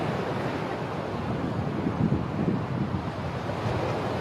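Waves and wind at Peh Pulo beach in Blitar, a loud, continuous roar of surf and gusting wind buffeting the microphone, with swells rising slightly toward the middle.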